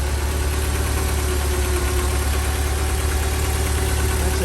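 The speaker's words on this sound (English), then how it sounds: "That's a fuel-injected 2-liter double overhead cam gasoline engine and a Defender." A fuel-injected 2-liter double overhead cam gasoline engine idles in a 1996 Land Rover Defender 90 in military police livery, running with a steady, loud, even drone throughout with no talk.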